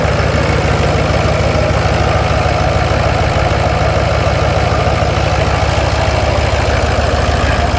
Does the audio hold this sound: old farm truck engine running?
yes